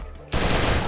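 Automatic MP40 submachine gun fire in the Garena Free Fire mobile game, a sudden loud continuous burst of rapid shots that starts abruptly after a quieter moment and keeps going to the end.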